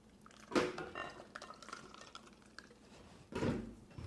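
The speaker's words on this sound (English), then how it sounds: "Give this one last whisk, and in it goes." Muffin batter gets a last quick whisk in a bowl, then is poured into the dry ingredients, with two sharp clinks of utensil on bowl and soft wet sloshing between, close and quiet.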